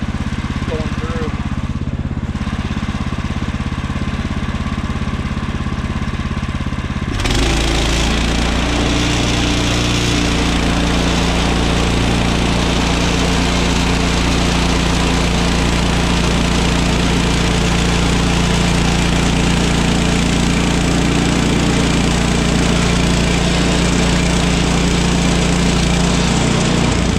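A Woodland Mills sawmill engine runs loud and steady while cutting lumber, its drone jumping to a heavier load partway through, then holding a constant roar.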